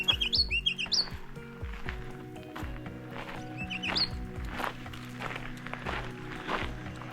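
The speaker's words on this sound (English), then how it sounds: "Ruby-crowned kinglet calling." Ruby-crowned kinglet calls from a Rocky Mountain trail in Colorado: a few short, high chirps near the start and again around the middle, over steady background noise and footsteps on the trail.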